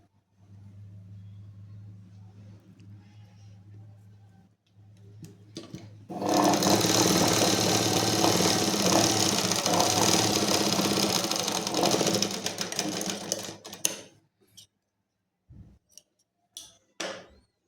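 A sewing machine stitches a collarless V neck on a garment, running loud and steady for about seven seconds in one continuous burst, with quieter handling and a low hum before it and a few scattered clicks afterward.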